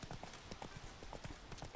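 Roach the horse's hooves in The Witcher 3, a quick, steady clip-clop trotting gait close up, running continuously on its own.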